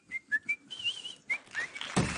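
A man whistles a short, cheerful tune alone, a few clear bright notes and a wavering held note, close and fairly loud, ending in a sudden burst of noise.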